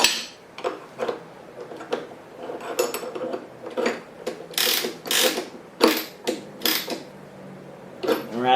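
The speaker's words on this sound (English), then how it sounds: "The ratcheting mechanism makes it really easy to chuck that bit in there." Ratcheting collet mechanism of a Festool router table clicking repeatedly as a 3/8-inch straight bit is tightened with the spindle lock depressed, loud close metallic ratchet clicks in irregular bursts, no talking.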